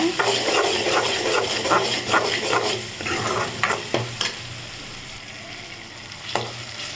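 Softened tomatoes stirred with a little turmeric powder in a pan for a drumstick poriyal, a close low sizzle under quick spoon scrapes that thin out and slow toward the end, with no voices.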